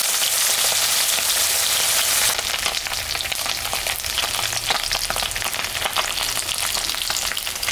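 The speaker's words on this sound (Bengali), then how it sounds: "মাছটা এখন ভাজবো, তেল গরম হয়ে গেছে।" Rohu fish frying in hot oil gives a loud, steady crackling sizzle that turns busier and more spattery partway through, with no talking over it.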